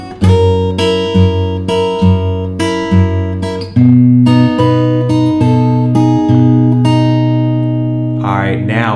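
Delta blues acoustic guitar plays a pickup line into the first measure, with a picked bass and treble pattern, firm attacks and ringing notes, ending with a brief spoken voice.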